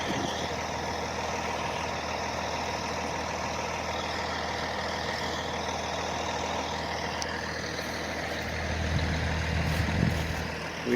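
A backhoe engine runs continuously at a steady, loud rumble near land being cleared of trees, growing slightly louder and deeper toward the end.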